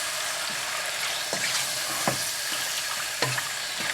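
Chicken seasoned with salt and black pepper fries on high flame with a constant bright sizzle, punctuated by a few soft scrapes and knocks of a spoon stirring, nearby and with no one speaking.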